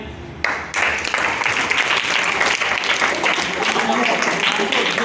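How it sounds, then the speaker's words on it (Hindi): A class of students bursts into applause for a classmate who built a computer model. Dense group clapping starts after a brief pause and continues loud and even, with some voices underneath. "तो इसके लिए भी तालियां।"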